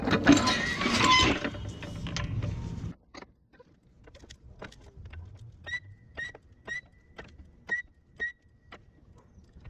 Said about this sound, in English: I'm going to jack it up first